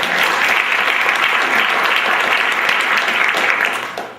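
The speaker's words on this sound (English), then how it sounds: "Please offer them a round of applause" A room of people gives a round of applause for the Clinton Community College Board of Trustees, with a full, even wash of clapping that carries steadily for about four seconds before easing off at the end.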